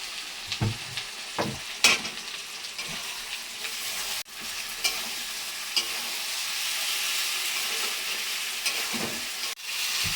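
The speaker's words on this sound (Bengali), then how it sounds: "মশলা দিয়ে আমি আবার কষাবো ভাজবো এই দেখো আমি মশলা দিয়ে দিচ্ছি" Vegetable curry frying with spices in a pan, a steady sizzle and hiss with occasional stirring scrapes and clinks close by, no talking.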